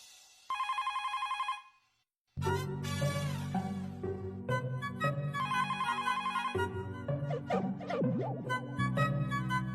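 A phone rings unanswered, first as a steady electronic trill that breaks off briefly, then a melodic ringtone plays on continuously and loudly, close by with no talk over it.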